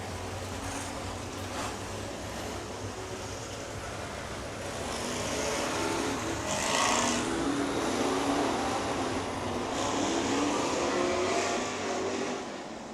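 Sprint car engines roar around the dirt oval at Crawford County Speedway, a continuous loud mechanical drone that swells as the pack passes closer, then holds at a high steady level.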